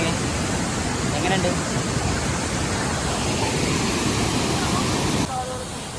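Steady roaring rush of the Seetharkund waterfall in Kollengode, Kerala, loud and close throughout, with a voice speaking briefly over it near the start.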